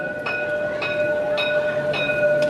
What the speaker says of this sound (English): The tram is honking at me because I'm in the middle of the street.